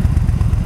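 Motorcycle engine running, a low steady throbbing pulse close by, brief and without talk.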